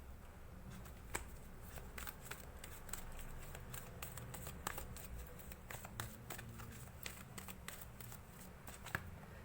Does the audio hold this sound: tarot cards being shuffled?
yes